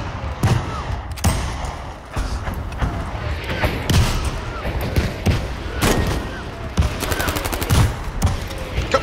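A mortar strike pounds the battlefield in Battlefield V: repeated heavy thumping explosions land at irregular intervals amid crackling gunfire, loud and chaotic.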